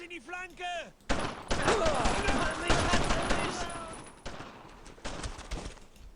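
Dense bursts of rifle and machine-gun fire crackle in the World War II shooter Brothers in Arms: Road to Hill 30. Loud volleys follow a short voice at the start, then the shots thin out into scattered bursts.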